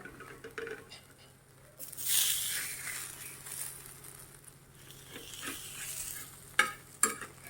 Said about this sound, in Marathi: थोडं थोडं आपण तेल कडाने सोडूया छान आता चांगलं खरपूस भाजून घेऊया